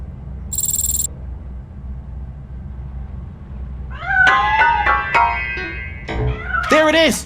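A cat meowing in the RoboCop Rogue City video game, several distinct meows in quick succession after a brief electronic tone and a quiet stretch, set over a low ambient hum.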